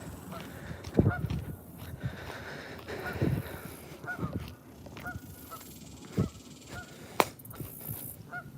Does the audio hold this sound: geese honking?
yes